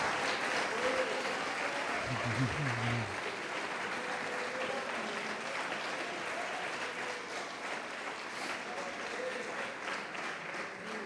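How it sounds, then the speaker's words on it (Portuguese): A church congregation applauds during a sermon, producing a steady wash of clapping at a moderate distance. A brief low voice or tone is heard early on, and the applause continues evenly throughout. "Pode aplaudir o Senhor Jesus"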